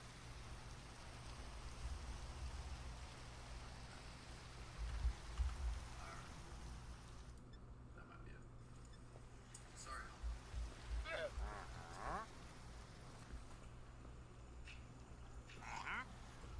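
Steady rain falls in the Minecraft Cobblemon mod, a continuous soft hiss filling the background, with faint talking at times.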